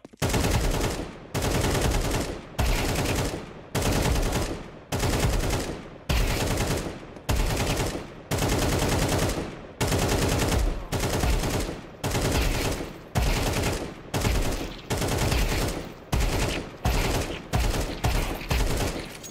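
Loud, sustained bursts of automatic gunfire in Counter-Strike 2 repeat in a steady rhythm, each spray lasting about a second with short gaps between.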